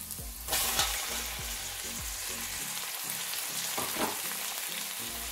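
Onions, mushrooms, tomatoes and green chillies fry in a pan, giving a constant bright sizzle close up, with a regular pattern of soft thumps and taps as the mixture is stirred.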